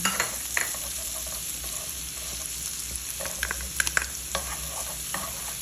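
Onion and garlic sautéing in butter sizzle steadily up close, with scattered clicks and scrapes as a spatula stirs the pan, and no one speaking.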